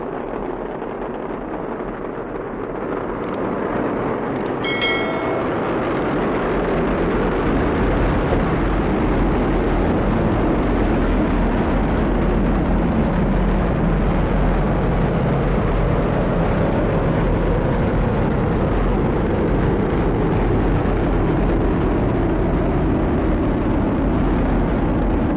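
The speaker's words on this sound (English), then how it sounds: "liftoff of SpaceX's Falcon 9 rocket for the 26th cargo resupply mission" A SpaceX Falcon 9 rocket lifts off carrying the CRS-26 Dragon cargo craft, its engines building into a sustained, broad, distant roar that swells after a few seconds and holds steady for the rest of the clip.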